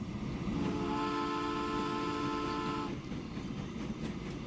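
A steam train in the game Transport Fever rumbles steadily along, its loud whistle sustained for about three seconds over the rolling noise before the rumble continues alone.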